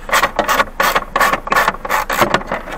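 An 8mm socket ratchet unscrews screws inside a Ford Fusion dashboard, giving quick, close, repeated ratcheting clicks in about six short bursts with no talking.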